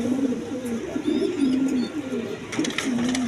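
Giraffe-neck pigeons coo steadily with low, rolling calls repeating close by, over a constant background hiss and a few faint higher chirps.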